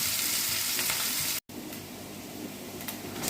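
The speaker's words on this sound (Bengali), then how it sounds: "ওই তেলের মধ্যে এবার পেঁয়াজটা দিয়ে দিলাম।" Onions frying in hot oil left from frying potatoes, for chicken biryani, with a dense, continuous close sizzle, broken by a brief cut to silence partway through.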